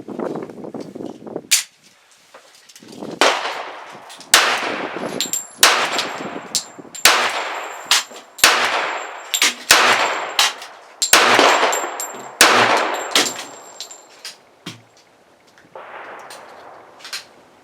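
A Girsan MC 1911 .45 ACP pistol fed from a Kimber magazine fires about a dozen loud, sharp shots at uneven intervals, each with a ringing tail, outdoors at close range.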